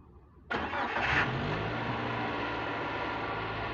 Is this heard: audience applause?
no